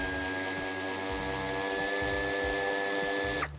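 A power tool whirs steadily while backing off the two central nuts on an Audi A5 Sportback (F5) during a towbar fitting, a continuous near buzz with a low grinding undertone that cuts off abruptly at the end.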